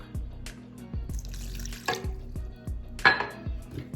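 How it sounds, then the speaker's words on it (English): Milk trickles and drips into a bowl of lemon blueberry pound cake batter, a light liquid patter over steady, rhythmic low thudding that continues throughout. "we're gonna add half of our milk"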